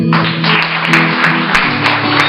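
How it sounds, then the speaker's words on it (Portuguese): Church congregation clapping during worship, loud and close, blended with sustained organ or keyboard tones underneath throughout. "Aplausos, Senhor."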